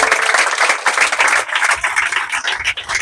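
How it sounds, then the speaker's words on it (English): Audience applause at a Delta State anti-drug campaign event in Bomadi, with dense, steady clapping from a crowd close by for about three seconds and no talk. "Let's clap for the governor."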